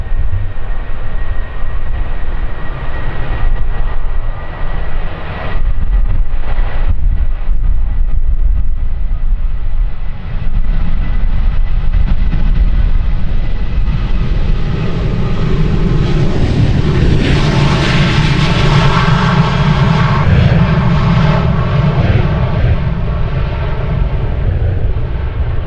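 A Boeing 737 jet departs runway 36L at Amsterdam Schiphol, a loud continuous engine roar that swells to a peak partway through and then eases, with wind buffeting throughout and no talking.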